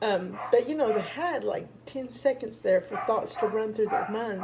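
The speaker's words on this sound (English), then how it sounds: "sorry about my dog" A pet dog barks and yips a few times in the room, short sharp bursts close by, under and between steady reading speech.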